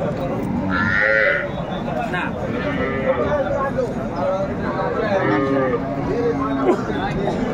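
A cow and her calf at a busy cattle market, with loud, drawn-out moos close by, one rising call near the start and more lowing further on, over constant crowd chatter and bargaining voices.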